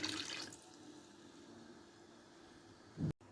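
Thin coconut milk is poured into a snail curry, making a faint watery trickle that continues for a few seconds before a brief louder splash at the end.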